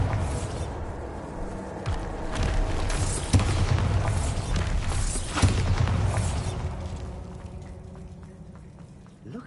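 Bombarda spell blasts in Hogwarts Legacy, with a pair of sharp booming impacts rising out of a dense, rumbling wash of magical combat noise and debris.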